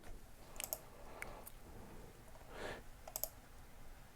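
Several crisp computer mouse clicks, spaced irregularly and quiet, while setting up an automation in ManyChat, with no talking.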